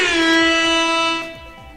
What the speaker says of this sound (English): That is going to get a little love from DJ Airhorn.